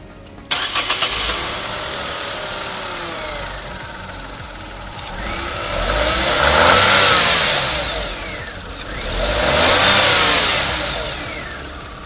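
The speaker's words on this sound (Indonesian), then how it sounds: "Yuk kita start up dulu, pengen denger suara 1000 cc turbonya kayak apa?" A Nissan Magnite's 1.0-litre turbocharged inline-three cranks and catches, then settles into a steady idle before two swelling revs, loud and close with no talking.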